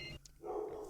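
A dog barks indoors, one or two sharp barks close to the microphone, moderately loud, with no speech over them.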